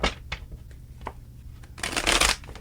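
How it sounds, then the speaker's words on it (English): Crisp riffling and slapping of a tarot card deck being shuffled, a few soft taps followed by a louder, sustained riffle near the end. "3 more shuffles and let's begin."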